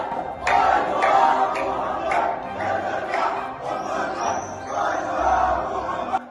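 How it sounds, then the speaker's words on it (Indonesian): A crowd shouts and chants in loud rising bursts, voices massed together and echoing, with a few sharper cries standing out. "terdengar suara orang-orang meneriakkan yel-yel"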